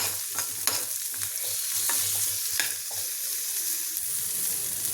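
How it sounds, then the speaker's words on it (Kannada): Onion and garlic frying in a pan give a loud, continuous hiss close up, broken by repeated scraping strokes of a spoon stirring the pieces, with no voices. "ಸ್ವಲ್ಪ ಈರುಳ್ಳಿದು ಹಸಿ ವಾಸನೆ ಹೋಗೋ ತನಕ ಫ್ರೈ ಮಾಡ್ಕೊಬೇಕು"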